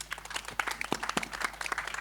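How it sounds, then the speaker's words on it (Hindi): An audience at a film trailer launch breaks into steady, dense applause, many hands clapping together in a lively, continuous patter with no talking. "एक बार जोरदार तालियां।"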